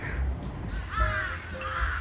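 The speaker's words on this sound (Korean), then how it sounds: "까마귀입니다. 까마귀 보이세요?" Crows caw a few times in a heavy Istanbul snowstorm, their harsh calls standing out over a low rumble of slow traffic and wind.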